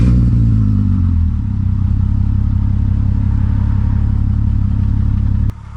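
The VR6 wagon's engine idles loud and close after engine flush is added, a steady rumbling whir that cuts off abruptly near the end, with no voices.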